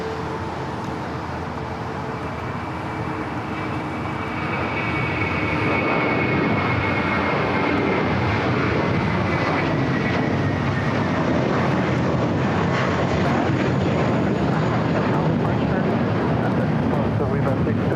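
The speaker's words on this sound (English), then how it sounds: "That was Viva Aerobus Flight 63 heading to Monterrey, Mexico in the A321." A Viva Aerobus Airbus A321 jet roars down runway 25 right at Los Angeles airport on its takeoff run, a broad, steady engine rumble that swells after a few seconds and stays loud and sustained, with a voice talking over it.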